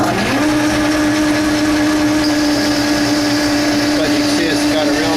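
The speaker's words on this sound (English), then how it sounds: "The lathe sounds real good." A Logan 14 lathe cuts down a transmission gear, giving a steady, loud mechanical hum with a sustained tonal whine and a metallic cutting hiss running throughout.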